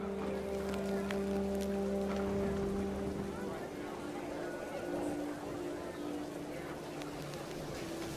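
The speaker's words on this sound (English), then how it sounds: "The rain came down in buckets then" Steady rain falls in What Remains of Edith Finch, a dense, continuous patter at even loudness under sustained tonal drones.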